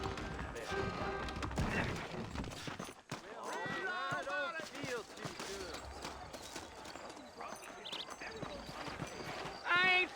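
Saddled horses in Red Dead Redemption move off with clip-clopping hooves and occasional whinnies, mixed under game dialogue and a musical score, with a louder burst near the end.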